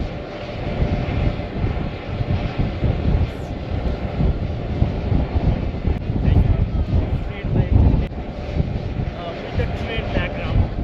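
Strong wind buffets the microphone at the Pikes Peak summit in Colorado, a continuous roaring gusty rush that swells and eases over several seconds, with no clear voices.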